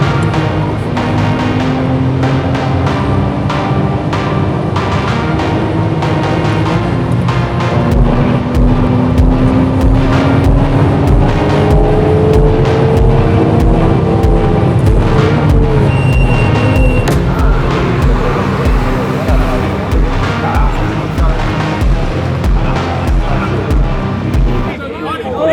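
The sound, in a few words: car drifting with a spinning wheel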